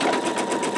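An embroidery machine stitches out a design in a MagnaHoop magnetic hoop, a steady, fast, even mechanical whir and needle rhythm, close and fairly loud, with no talking.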